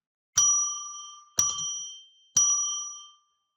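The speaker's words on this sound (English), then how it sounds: "We're going to ring a bell 3 times to declare sacred space." A small hand bell is struck three times at even intervals, each clear ring sustaining and fading before the next, alone in silence.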